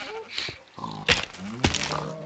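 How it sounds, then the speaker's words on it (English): Pigs in the video game Minecraft give a few short grunts at moderate loudness, separated by brief gaps, with some faint game background underneath. "These are my pigs."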